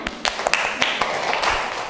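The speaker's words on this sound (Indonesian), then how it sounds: "Oke, tepuk tangan." Small group in a classroom clapping loosely and unevenly, a scatter of sharp, close claps at irregular intervals rather than a full ovation.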